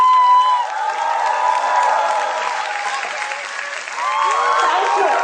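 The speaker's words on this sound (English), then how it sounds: "Let's give them all a big round of applause" A crowd of parents at a school junior-wing annual function gives the children a big round of applause, loud sustained clapping mixed with whoops and cheers that dip briefly before swelling again.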